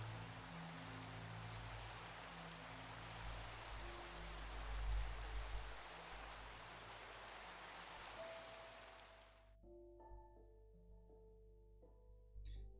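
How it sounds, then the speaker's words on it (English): Rain falls steadily in a video game with shaders enabled, a dense, moderately quiet hiss that runs alone for about nine seconds before cutting off, leaving soft tonal game music. "And it's raining."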